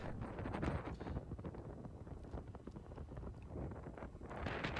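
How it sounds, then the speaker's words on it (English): Gusty wind buffets the microphone in rough, rumbling bursts while riding an e-bike into a headwind along a white-sand Gulf Coast beach, loud and continuous, with no voices heard. "we were riding right into the wind"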